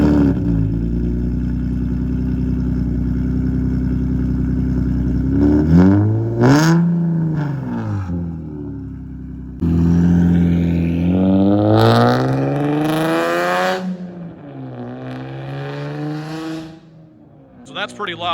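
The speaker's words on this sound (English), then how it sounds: "That's pretty loud because we have only just a 12-inch round style muffler for the mid pipe." An Infiniti G37 with a titanium single-exit exhaust and a 12-inch round mid-pipe muffler revs loudly from idle, several sharp rising blips and a longer climbing rev before settling back, with talk mixed in.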